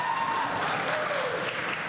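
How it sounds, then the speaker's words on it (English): Steady applause fills a crowded hall at the Kerrang! Awards 2022 ceremony as an audience claps continuously for winners returning to their table, with a faint tonal element running beneath the clapping. "That's them just receiving another round of applause when they got back to their table"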